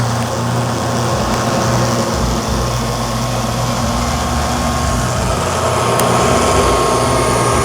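Neato Botvac D75 robot vacuum running up close, its powerful internal fan giving a loud, steady whirring drone with a low hum underneath, no talking.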